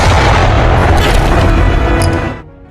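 A German Tiger tank cannon fires at a building at close range in Stalingrad, producing one loud, sustained booming blast with heavy low rumble that fades away abruptly at the end.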